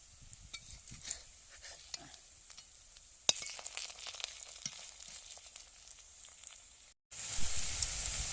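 Kohlrabi fritters fry in oil, a soft crackling sizzle with scattered clicks of stirring that jumps to a louder, brighter hiss near the end after a brief break.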